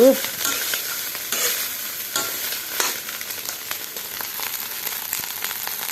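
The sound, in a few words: leftover rice frying in a pan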